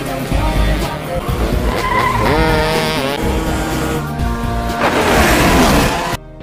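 Go-kart race on a circuit in a film scene, with engines revving and whining, tires squealing and skidding loudly, under a musical or dramatic soundtrack, ending abruptly.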